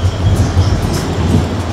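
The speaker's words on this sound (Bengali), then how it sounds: "ট্রেন প্ল্যাটফর্ম ছাড়ছে" Train pulling out of the platform at the start of a Dhaka to Benapole journey, a close, steady low rumble of wheels and carriages heard from on board, with no talk.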